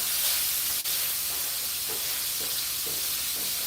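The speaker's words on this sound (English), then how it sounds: "So I'm going to add the burgers over here" Burgers sizzling on a hot grill, a loud, dense, continuous frying hiss close up, with a faint tap partway through and no voices.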